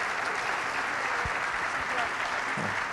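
An audience at a technology and wellness event applauds a student panel, a continuous, even wash of clapping with a voice faintly heard beneath it.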